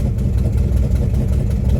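A 1979 Cadillac engine that sat for 27 years runs loudly up close, a heavy, steady low rumble with a slightly uneven pulse.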